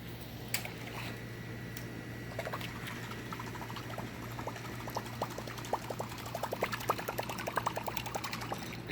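A Berkley Choppo topwater chopper lure is pulled quickly across water, giving a continuous bubbling, gurgling splash that grows busier with rapid ticking clicks, faint under a steady hum.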